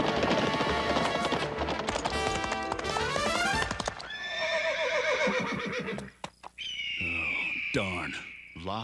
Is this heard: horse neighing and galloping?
yes